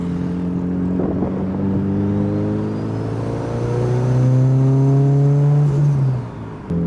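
A Mitsubishi Evo's engine pulls hard in third gear, heard from inside the car. It is a loud, steady drone that climbs smoothly in pitch over several seconds, then eases off near the end. No voices are heard.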